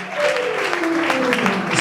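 A church congregation stands and applauds, a close, full burst of clapping mixed with crowd cheering and acclamation, steady across the short stretch.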